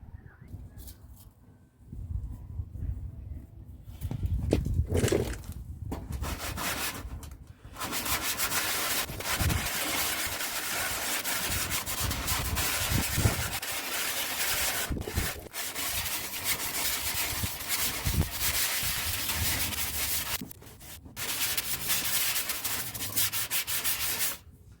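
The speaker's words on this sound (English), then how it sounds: "You don't want to see me rubbing all this down and trying to get the basic shape" Hand sanding of body filler on Alfa Romeo 156 bodywork: a close, continuous rasping rub with steady back-and-forth strokes, pausing briefly a few times over its length.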